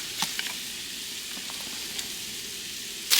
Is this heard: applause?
no